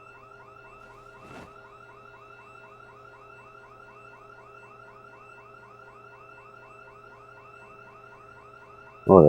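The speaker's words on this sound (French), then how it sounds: "vous entendez, il y a Z qui a déclenché une alarme" A car alarm set off by a zombie in the survival game Project Zomboid wails in a repeating, rising electronic pattern, fairly faint and distant. A brief burst of noise comes near the start and a louder sound cuts in at the end.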